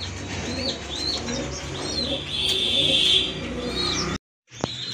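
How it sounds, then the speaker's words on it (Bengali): A pair of pigeons, a naptha male and a jabla-type female, coo steadily at close range while higher chirps and calls overlap throughout, before the sound cuts out briefly near the end. "আর এখানে কিন্তু এক জোড়া কবুতর রয়েছে"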